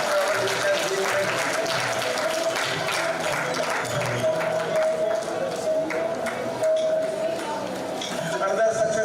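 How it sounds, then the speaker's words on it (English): Audience applause at an agricultural research institute's foundation day ceremony, a loud, sustained wash of clapping with a faint steady tone underneath and murmuring voices mixed in. "Give him a big applause for a long distance travel which has been made."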